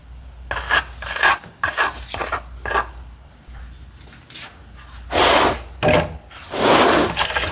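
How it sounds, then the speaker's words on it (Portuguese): Colored mortar stirred with a small stick for a decorative vase, heard as irregular scraping and gritty rubbing strokes in bursts, close and fairly loud. "Agora a gente vai misturar com um palitinho, com qualquer coisa que você tiver"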